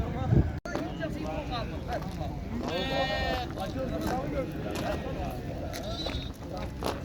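Sheep bleat at an open-air livestock market in Xaçmaz, with several calls rising through steady crowd chatter and people talking nearby throughout.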